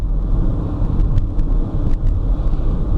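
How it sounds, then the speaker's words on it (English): Busy road traffic in Malaysia, a dense continuous rumble of passing cars with low engine drone and a few faint higher whines, loud and steady with no talk. "Traffic seems to be busy but moving."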